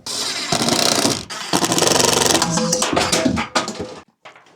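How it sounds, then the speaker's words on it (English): A power drill drives screws through a mini split mounting bracket into a wall, giving loud bursts of whirring and grinding that stop and start, then cut out near the end. "I'm gonna go ahead and throw a couple more screws in here."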